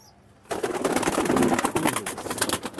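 Pakistani high-flying pigeons coo close by in a steady, dense rumbling murmur that starts suddenly after a short quiet moment and continues throughout.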